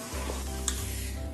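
Batter for pitha being mixed in a bowl, a steady soft stirring scrape with a low hum beneath and one brief clink partway through, close and fairly quiet.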